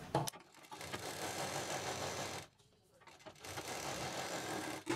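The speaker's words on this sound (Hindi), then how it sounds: "और एक बीच में मशीन चला देंगे।" A sewing machine stitches velvet fabric for a designer bag in loud mechanical bursts, running, stopping briefly for about a second, then running again.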